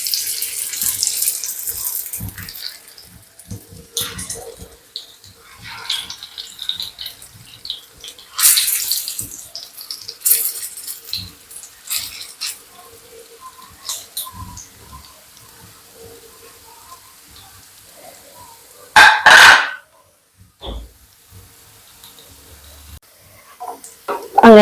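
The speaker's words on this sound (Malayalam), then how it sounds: "നമുക്ക് അതിലേക്ക് നമ്മുടെ ബോൾസിനെ ഇട്ട് കൊടുക്കാം" Pre-cooked plantain balls with moringa fry in coconut oil in a pan, a hissing sizzle that rises and falls with crisp bursts, a loud spurt near the end, then a brief lull.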